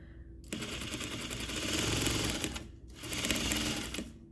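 A sewing machine runs continuously at close range for about four seconds while being test-stitched on fabric, its rapid mechanical whirring briefly pausing near the end before resuming.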